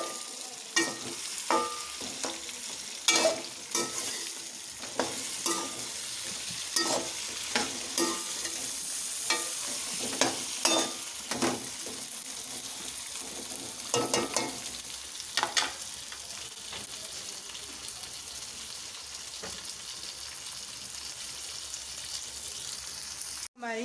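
Okra for masala bhindi sizzles and fries in a pan, with repeated scraping strokes as a spoon stirs it throughout, close and fairly quiet.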